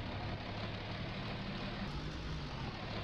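A tractor engine in Farming Simulator idling and chugging at a steady low rumble, continuous and close, with no talking.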